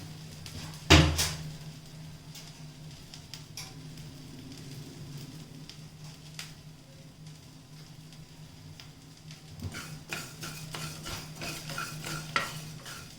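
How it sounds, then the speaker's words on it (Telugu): Fenugreek seeds and asafoetida fry in oil with a faint, soft sizzle, broken by scattered light clinks and scrapes of a spoon stirring in the pan and a low steady hum in the background. "మెంతులు ఇంగువ కూడా వేపిస్తున్నాను"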